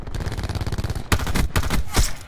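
M16 rifle firing on iron sights in Black Ops 4: a steady rattle of rapid automatic shots, then three loud, separate bursts close by.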